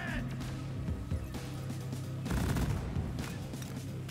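Sentry turrets in Deep Rock Galactic keep up dense, continuous automatic fire amid the chaos of battle, with a loud burst of impacts partway through, and voices come through faintly underneath.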